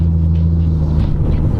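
A Nissan Stagea M35 engine idles loud and close with a deep, steady low rumble that swells slightly toward the end, nothing else heard.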